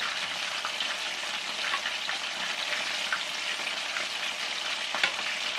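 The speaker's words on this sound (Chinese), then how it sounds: "然后我们用大火来炸鸡腿，下一个鸡翅，先用大火把这个鸡腿炸定型" Chicken drumsticks and wings deep-fry in hot oil over high heat, giving a continuous, fairly soft bubbling sizzle with small crackling pops and no talking.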